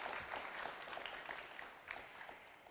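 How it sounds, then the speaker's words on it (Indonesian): Faint, steady applause from a school audience at a Jakarta senior high school event, many hands clapping at a distance for a few seconds. "tepuk tangan."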